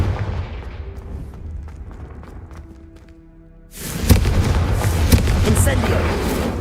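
In the video game Hogwarts Legacy, the Confringo spell is cast and a blast erupts, bringing a loud burst of crackling, booming noise that takes over after a quieter stretch with a voice.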